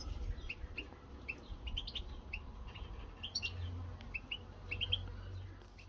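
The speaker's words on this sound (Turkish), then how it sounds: "İsketeler en kolay alışan kuşlar." Siskins chirp in quick, high bursts scattered across the clip, set against a low steady hum and background noise.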